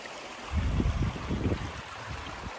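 Water rushing in a creek along the Appalachian Trail, a steady low churning flow close by with bursts of louder splashing, no voices.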